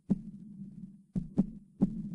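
Children's heartbeats used as the beat of a pop song: a low, thumping double-pulse recurs about every half second to second, loud and clear with a steady hum sustained beneath it and no voices.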